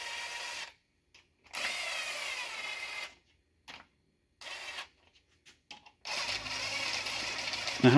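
An impact wrench works on an MK7 GTI engine block in several short, rattling bursts of varying length separated by quiet gaps, ending with a longer run.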